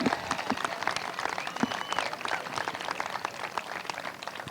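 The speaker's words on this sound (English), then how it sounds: "give yourself another big round of applause for that" Applause from a crowd at a Babe Ruth World Series youth baseball event, a steady wash of many hands clapping that holds at an even level for several seconds without speech.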